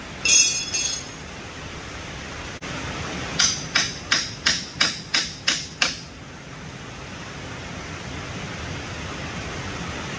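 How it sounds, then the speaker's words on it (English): About eight sharp, evenly spaced hammer blows on a chisel, working rusted rubber off the rear air ride of a 1964 Ford Thunderbird, ringing close and loud with a faint metallic clink, then quiet background hiss. "work it with this chisel until it comes off there"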